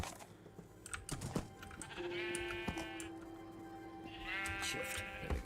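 Sheep bleating in Minecraft, two drawn-out electronic-sounding bleats near the start and end, with light keyboard clicking and no talk.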